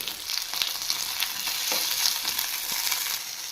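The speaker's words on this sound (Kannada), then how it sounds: "ಇದು ಚೆನ್ನಾಗಿ ಫ್ರೈ ಮಾಡ್ಕೋಬೇಕು ಟೊಮೊಟೊನ" Chopped tomatoes and cumin seeds fry in a pan for a breakfast chutney, a close, dense sizzle with small crackles and spits, steady throughout with no voices.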